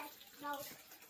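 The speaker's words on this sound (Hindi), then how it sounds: "पानी है," Water running from a tap in a village home, a faint, brief steady hiss with a voice faintly audible behind it.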